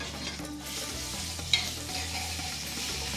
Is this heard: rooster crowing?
no